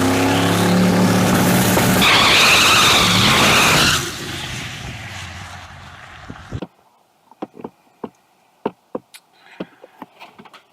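A race car spins out with its tires skidding. A loud engine and screeching tires dominate the first few seconds, fade away, and give way to quiet broken by scattered sharp clicks.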